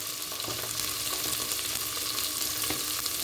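Shrimp frying in a pan with onion, garlic paste and cumin paste, a steady close sizzle with faint scraping stirs throughout, no voices.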